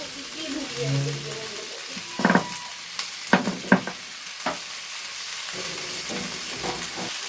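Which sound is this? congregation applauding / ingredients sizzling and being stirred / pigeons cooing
ingredients sizzling and being stirred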